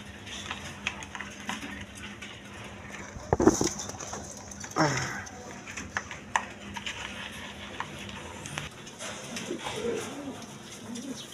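Pigeons coo softly at a market stall, low murmuring calls amid wing flaps, scuffles and a couple of louder bursts, with faint voices in the background.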